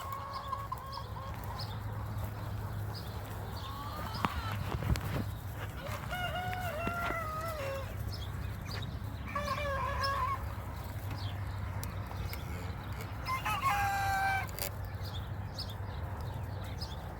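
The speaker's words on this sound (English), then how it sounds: "I'm going to try to get this young cockerel crowing over here" A young cockerel crows several times in short, rising-and-falling calls, with a second rooster answering nearby, amid soft clucking hens and a steady low background hum on a farm.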